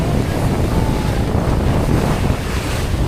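Rough sea pounds against a loaded fishing boat heading out to the fishing grounds, a dense, constant wash of waves and wind roaring close to the microphone with no talking.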